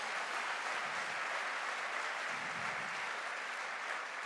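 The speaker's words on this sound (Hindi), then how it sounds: "ताली तो बनती है भाई आज मेरी बीवी के लिए" Steady audience applause fills the hall at a direct-selling motivational event in honour of the speaker's wife, a dense, even wash of clapping held at constant strength with no voices.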